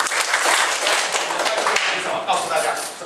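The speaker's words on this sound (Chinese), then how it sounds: "来，掌声三下" A primary school class claps together during a maths lesson, a dense burst of applause under excited children's voices, steady and loud across the whole stretch.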